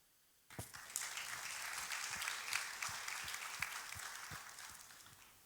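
Audience applause breaks out at a high-level conference hall marking 60 years since the Treaty of Rome, a sudden start of many hands clapping in a steady, sustained wash that holds and then gradually fades.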